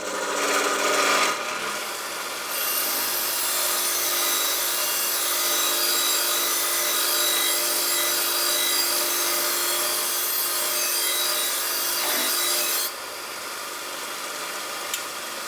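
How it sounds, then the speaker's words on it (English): Rust being scraped and rubbed off the edge of an antique drawknife makes a continuous, loud, close abrasive rasping that runs steadily for over ten seconds before easing slightly. "I'm just going to clean up the edge here so that we don't fill up the files with rust."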